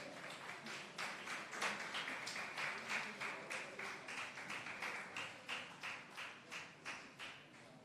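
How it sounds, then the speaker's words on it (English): Audience applauding to welcome a minister at a National Fisheries Authority event, faint rhythmic clapping that pulses in a steady unison beat, fairly quiet and distant throughout. "Can we give Minister a round of applause as we welcome him?"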